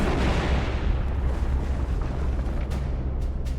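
A deep, sustained bomb explosion rumbles loudly and continuously, a heavy low roar with debris-like crackle that stays dense throughout without any voices.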